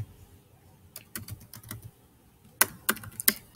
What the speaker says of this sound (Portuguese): digitar para pesquisar no Google